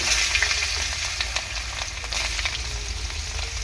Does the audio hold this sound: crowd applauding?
no